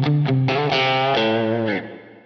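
A guitar played through a Line 6 Helix with reverb switched on rings out as a few sustained, effects-laden notes close up, trailing off into a fading reverb tail.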